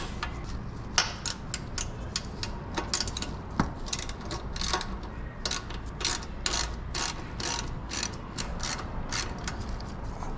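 A ratchet wrench clicks in quick bursts while loosening a bolt on a Yamaha Tenere 700 motorcycle, with irregular clusters of sharp close metallic ticks and pauses between strokes.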